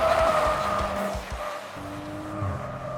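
An Audi RS5 lapping a tight, twisty race track, its engine droning steadily while tyres squeal and skid through the corners, heard from on board with no talk.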